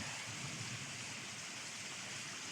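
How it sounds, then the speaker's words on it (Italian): Early-morning rain falls steadily beside Lago Maggiore, a soft, even hiss of drops that holds without pause and with no voices. "Piove. 6:30 e piove."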